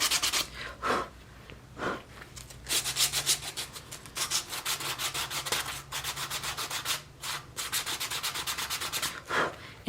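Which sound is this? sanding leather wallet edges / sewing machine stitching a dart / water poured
sanding leather wallet edges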